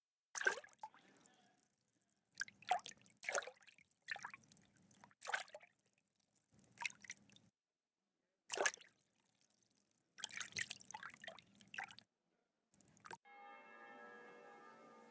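In Kingdom Come Deliverance 2, water pours from a jug in a series of short splashing, dripping bursts separated by silent gaps, fairly quiet and close, followed by a faint ringing tone at the end.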